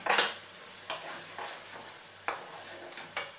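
Garlic goes into a hot pan for bolognaise and gets stirred, with a soft sizzle under a few sharp scrapes of a utensil against the pan at uneven intervals.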